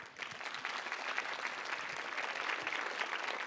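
A studio audience at a televised singing competition claps after a performance, a steady, moderately distant patter of many hands with no talk on top.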